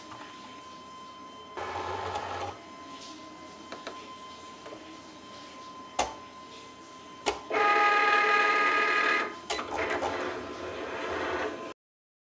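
A Foil Quill cutting machine runs in short motor bursts separated by quiet gaps. It has a whirring, printer-like mechanical buzz with a few sharp clicks, then a longer loud stretch before it stops abruptly.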